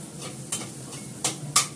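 Food sautés in a pan with a soft, constant sizzle, broken by three sharp stirring clinks of a utensil against the metal. No one speaks.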